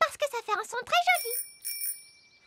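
A bicycle bell in a children's cartoon rings bright and clear with a single lingering ding after a voice speaks, then a softer second ring as the tone fades.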